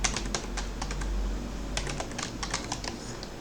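Rapid, irregular keystrokes on a computer keyboard as a password is entered, close and clear, in short bursts with brief pauses and no talking.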